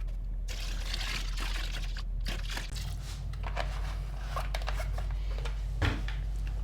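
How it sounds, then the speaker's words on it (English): Engine-parts degreaser being poured into a container of water gives a continuous splashing, gurgling pour with faint crinkly handling noises, fairly close and steady. "And now I'll just add some degreaser and kind of eye out a 3:1 ratio."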